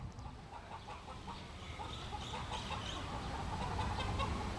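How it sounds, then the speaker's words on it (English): A rooster clucks outdoors while being chased, giving a series of quick, moderately faint clucks and agitated calls over steady background ambience. "Chasing the rooster."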